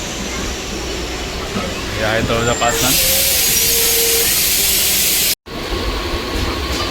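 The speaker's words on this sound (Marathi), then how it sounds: "पनवेल वसई ट्रेन आहे ही." A Panvel–Vasai MEMU electric train at Taloja Panchnand station gives a continuous rumble that swells midway with a brighter hissing rush, heard under a man's ongoing speech.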